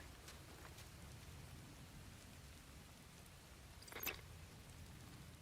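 Steady, faint rain falls in the video game Beast of Reincarnation, a soft continuous hiss with a brief brighter burst near the end, alone without voices.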